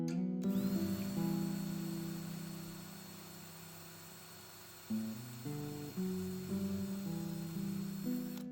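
A small power drill with a narrow bit boring a hole in a wooden guitar body part, its motor whine running steadily, then stopping and restarting in a few short bursts, close and loud with no voices.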